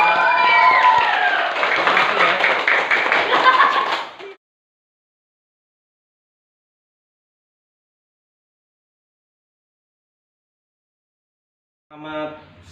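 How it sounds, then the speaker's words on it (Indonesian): Children and an audience clap together in a busy room for about four seconds with some voices mixed in, then silence, and a brief burst of sound returns at the very end. "Tepuk tangan untuk kita semua."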